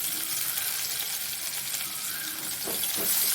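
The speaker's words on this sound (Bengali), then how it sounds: "একটা কুচানো পেঁয়াজ দিয়ে দিলাম" Chopped onion hisses in hot oil in a pan with a bay leaf, a dried red chili and white cumin, making a steady, even sizzle throughout with no talking.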